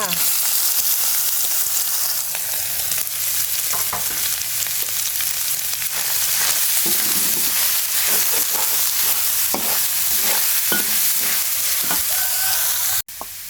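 Crab legs stir-fry with garlic in a pan, giving a loud continuous sizzle broken by repeated scraping and stirring clatter, ending in a sudden stop.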